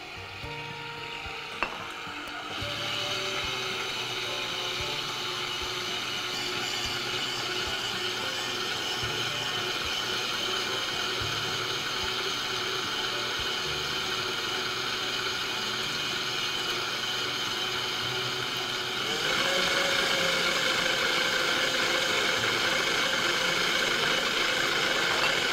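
An electric mixer beats English cake batter with powdered sugar, producing a steady close motor drone that starts after a brief clunk and then continues, stepping up to a higher, louder speed partway through.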